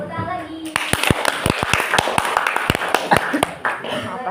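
Children in a classroom clapping their hands: a quick run of loud, separate claps in an uneven rhythm, mixed with children's voices and some chatter around them.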